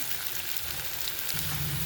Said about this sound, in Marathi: एक चमचाभर आलं लसूण पेस्ट टाकली आपण आता पुन्हा एकदा आपण परतून घेऊया